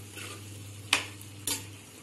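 A spoon stirs shahi paneer curry in a pan, two short scraping knocks over a quiet low hum, close and faint, with no voices.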